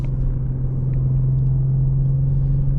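A BMW M340i on the road, heard as a steady, loud, low engine and road drone inside the cabin, constant with no voices.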